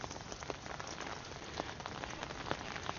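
Steady rain falls after days of wet, windy weather around a garden with potted plants and a gutter, making a continuous soft hiss with scattered louder drips and patters.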